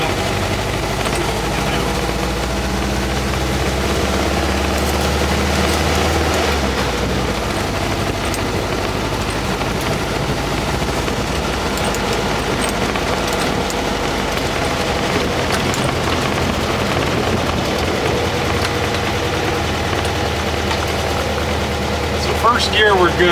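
A vehicle engine with an air-fuel mixture problem runs steadily and loudly at close range, a continuous low rumble with someone talking over it.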